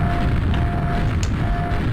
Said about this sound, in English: I get some nice explosions.